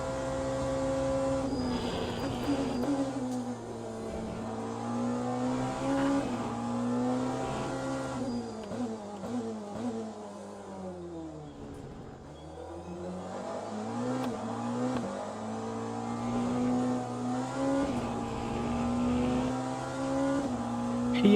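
Hypercars in the Le Mans Ultimate racing game on their final lap, a steady, loud engine drone with rising and falling pitch through shifts and braking, continuous and without talk.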